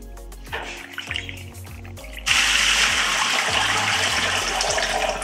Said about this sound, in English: Now we'll rinse and drain with several changes of water.